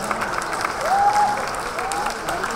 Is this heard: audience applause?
yes